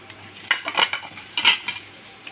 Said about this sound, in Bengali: এবার তরকারিটা ঢেলে নেব